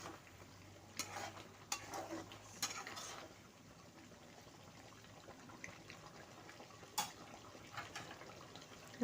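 Spices are stirred into an Assamese chicken curry in a pan. A faint, steady sizzle runs under a few scattered scraping and clinking strokes of a utensil against the pan, with no talking.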